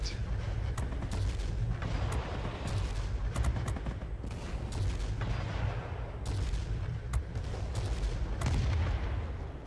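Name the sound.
aircraft cannon fire in video game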